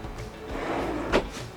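A cutlery drawer in a motorhome kitchen slides open with a low rolling rumble, ending in a short soft knock near the end; close and fairly quiet.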